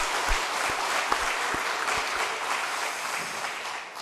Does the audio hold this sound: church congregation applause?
yes